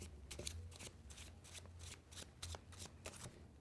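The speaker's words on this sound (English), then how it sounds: "Now, I'm going to do an overhand shuffle, and I'm going to do it twice." Overhand shuffle of a deck of playing cards: quick rhythmic flurries of crisp riffling slaps in repeated bursts, close and fairly quiet, with no talking.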